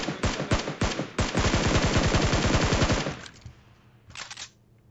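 Loud sustained machine-gun bursts in PUBG Mobile, rapid close shots in an extended volley that stops abruptly, followed by a short quieter burst near the end.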